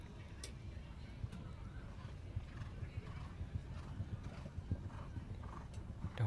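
Horse hooves clip-clop steadily at a grand prix show jumping event at an equestrian park, a soft, fairly distant rhythmic thudding with occasional whinnies, under commentary.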